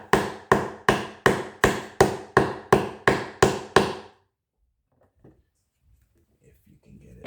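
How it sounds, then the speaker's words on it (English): Ten steady hammer blows ring out at an even pace while assembling a Little Tikes Push and Ride toy, then silence with a few faint rustles. "And then you're going to hammer."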